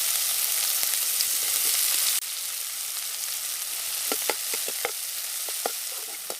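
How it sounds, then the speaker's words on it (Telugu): Onions frying in hot oil, a close steady sizzle with a few sharp crackles and pops toward the end, no voices. "నూనె అయితే వేడైంది. ఉల్లిగడ్డలు వేసుకుందాం."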